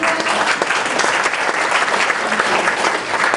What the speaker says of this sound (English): we'll just give her a round of applause